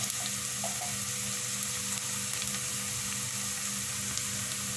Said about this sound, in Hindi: हल्का गुलाबी माइल सा कर लेंगे प्याज को फ्राई